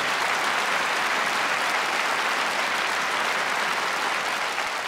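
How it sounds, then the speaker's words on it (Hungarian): Concert audience applause fills the hall as a thick, unbroken roar of clapping that holds at a constant loud level from start to finish. "Egy nagy tapsot kérek szépen Katicának még egyszer."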